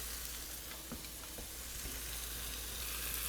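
Butter sizzling in a skillet as it melts, a steady low crackle with a few soft taps from a utensil, fairly quiet and with no voices.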